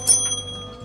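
A small handheld bell is dinged once, a bright, clear ring that decays over a low steady hum in the background.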